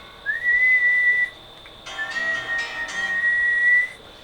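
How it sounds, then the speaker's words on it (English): A person whistles two clear, sustained high tones, the second longer and slightly wavering, with no talking around it. "And last, we're gonna do a whistle."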